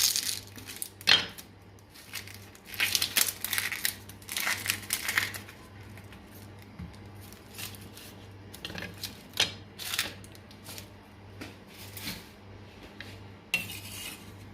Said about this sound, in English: cut the onion.